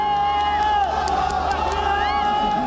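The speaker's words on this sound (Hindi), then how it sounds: "लोग खुशी से तालियां बजाते हैं और गॉड इज ग्रेट के नारे लगाते हैं।" A dense, excited crowd cheering, clapping and chanting at an earthquake rescue in Turkey, continuous shouting with overlapping voices and whoops, loud and steady throughout.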